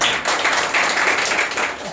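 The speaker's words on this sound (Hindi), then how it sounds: "एक जोरदार ताली" A church congregation at a Sunday morning service applauds loudly, steady dense clapping from many hands sustained throughout.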